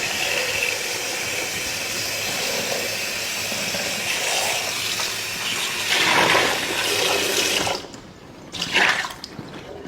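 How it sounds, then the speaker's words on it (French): Tap water runs and splashes into the plastic reservoir of a DustGo carpet shampooer as it is rinsed with a little dish soap, a steady close rushing hiss that swells near the end, then cuts off briefly before a final gush. "On met un peu de liquide vaisselle dans le réservoir et on rince à l'eau."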